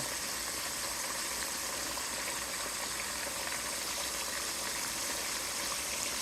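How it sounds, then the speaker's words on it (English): Pork chops fry in hot oil in a deep chicken-frying skillet, giving a steady, dense, close sizzle that holds even and continuous throughout with no talking. "Now make sure all the way around it is frying nicely."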